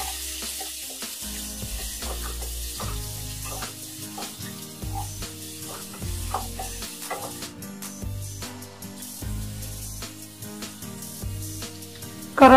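Chopped onion sautéing in oil with mustard seeds and cumin for drumstick poriyal, a continuous close sizzle with scattered clicks and scraping from stirring, no speech.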